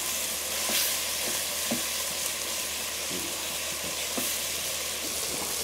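Food being stirred in a pot with tomatoes and water over heat outdoors, giving a steady sizzling, bubbling wash with soft irregular scraping knocks from the spoon, fairly close and continuous without talk.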